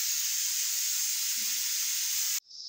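A loud, steady sizzle of tempering hitting hot oil, with tomato, onion and chilli, hisses continuously, then abruptly drops to a softer hiss.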